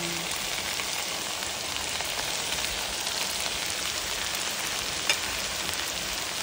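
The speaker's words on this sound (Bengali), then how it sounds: "এখন দেখুন এর ভিতরে দিয়ে দিব চিকেন কিমা।" Chicken mince fries with potatoes in a pan, making a dense, even hiss like rain that keeps a constant level throughout, close and without talk.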